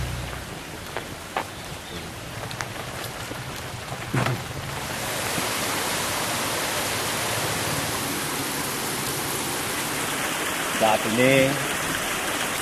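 Water pouring steadily from seven spouts at Gunung Bundar, a broad continuous rushing hiss that swells louder after a few seconds, with someone speaking briefly early on over it.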